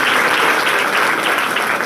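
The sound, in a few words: applause for a village event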